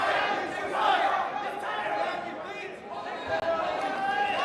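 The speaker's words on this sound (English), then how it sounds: "Now he starts to hear the crowd get involved" Spectators at the New Zealand secondary schools wrestling championships, 2024, shouting and cheering in a busy indoor venue, a continuous crowd roar with overlapping calls, a commentator's voice under it and a sharp thud near the end.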